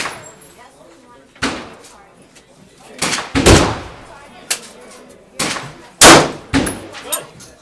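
Glock 17 9mm pistol fired at a shooting range: about five sharp, loud shots spaced irregularly over several seconds, with a faint background between them.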